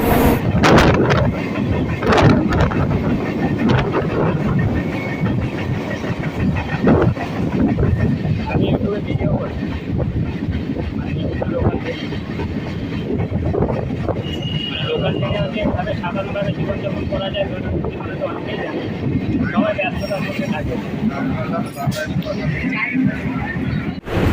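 A local train pulls out of Sodepur station on the Eastern Railway suburban line, its continuous rumble and rattle blended with heavy wind buffeting, while a voice talks over the noise throughout.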